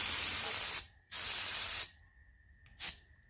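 Metallic white craft-store paint is sprayed onto a big pelagic lure in two loud, close hissing bursts followed by a brief final spurt, with quiet gaps between them and no talking.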